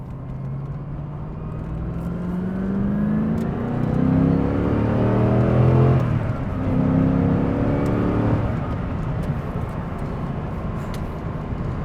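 A 1995 Chevrolet Corvette ZR1 accelerating hard in full power mode: loud engine rising steadily in pitch through the gears, a brief dip at a shift, then climbing again and easing off, heard from inside with no talk.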